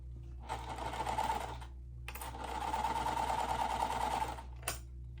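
A sewing machine stitches cotton fabric pieces for a quilt, running in two long steady bursts with a brief pause between them and a short final whir, close and loud with no talking.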